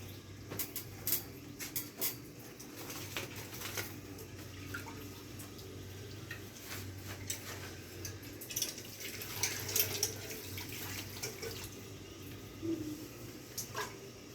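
Faint water drips and patters irregularly onto a plant's leaves, soft scattered ticks over a quiet outdoor background with no voices.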